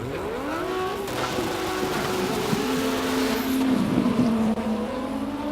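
Porsche GT3 race car at a hillclimb, its engine screaming at high revs as it passes, then dropping in pitch and easing off, loud and continuous throughout.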